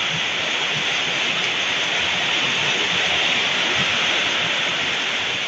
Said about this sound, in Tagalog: Nabundak na gid ang ulan.